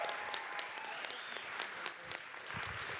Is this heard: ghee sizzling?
no